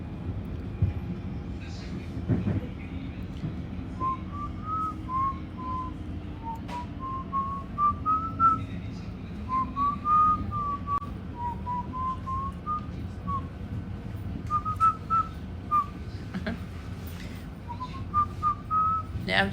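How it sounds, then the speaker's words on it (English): Someone whistles a meandering tune in short melodic phrases over the constant low rumble of a moving train near Pascoe Vale, clear and close. "Now I'm just whistling whatever."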